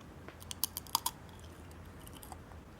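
A Tostitos tortilla chip crunched in the mouth, giving a quick burst of five or six crisp, close cracks in the first second and then near silence.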